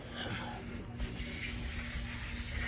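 A steady aerosol brake cleaner spray hisses out after a short pause onto old bearing grease, continuing loud and close to the end with a faint low hum underneath.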